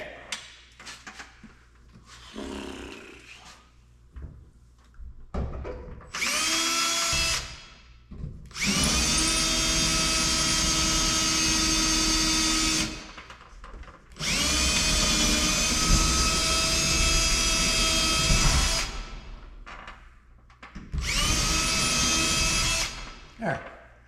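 Power tool driving a bolt into a Kenworth cabover, loud bursts of high whining drive repeated several times with short pauses and faint handling noises between.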